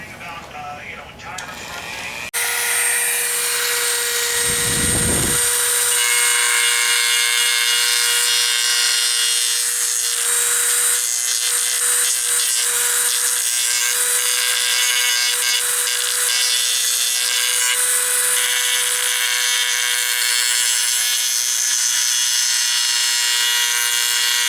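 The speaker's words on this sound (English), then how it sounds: "I'm going to give this a quick trim with the Dremel tool" A Dremel rotary tool trims a wooden Mosin Nagant rifle stock, whining steadily and close for most of the span after a brief quieter start, with a low thump early on.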